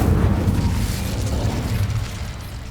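An Incendio fire spell cast in Hogwarts Legacy erupts as a loud, sustained burst of roaring, crackling flame with a deep rumble, holding steady for a few seconds before easing slightly.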